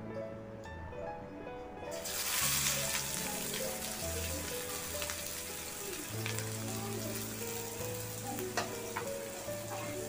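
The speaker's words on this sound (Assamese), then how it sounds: "প্ৰথমে তেলখিনি ভালদৰে গৰম হ'বলৈ দিছোঁ আৰু পিঁয়াজখিনি দি দিম" Finely chopped onions dropped into hot oil in a pan for jackfruit seed curry, a sudden loud sizzle that settles into steady crackling frying with a few clinks of stirring.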